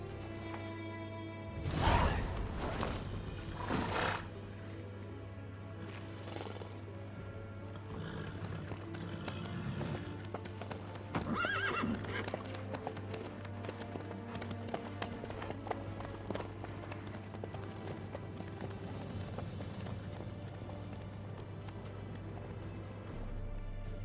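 Horse hooves clip-clop through The Witcher 3 beneath a constant musical and ambient bed, with a snort or whinny near the start and scattered scraping footfalls, no talk.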